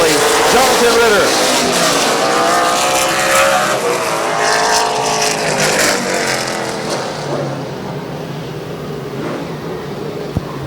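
Race cars roar past in a speedway heat race on a fall oval, a loud sustained engine drone that fades as they move off, with a track announcer talking over it.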